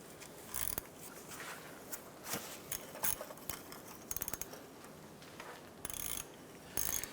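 A ratchet clicks in short bursts as a starter bolt is loosened on a 2006-2013 Chevrolet Impala, with quiet gaps and faint metal handling between the quick clicking runs.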